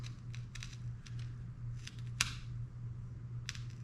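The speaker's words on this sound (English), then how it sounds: "Some more extreme tape here to cut." Extreme tape cut with scissors during radio equipment installation on an Assassin/Rebel build: a few quick, crisp snips spaced irregularly over a steady low hum, one sharper snip standing out in the middle.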